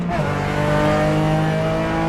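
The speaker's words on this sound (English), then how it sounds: "you really have to jump on the brakes on this thing" A RUF Porsche AWD street car in the iRacing simulator brakes hard, its engine note dropping through a steady drone while the tires squeal, loud and continuous for about two seconds.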